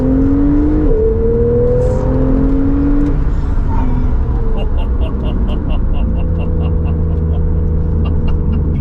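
A Porsche 911 Targa 4S of the 991.2 generation pulls out of a corner under throttle. The engine drones loud and steady and rises in pitch, heard from inside the car.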